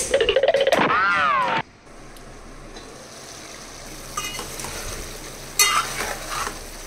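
A spoon stirs country chicken curry cooking in a pan, with a brief loud scraping burst up front, then a low steady simmering sizzle and a few faint clinks and stirs, no talking.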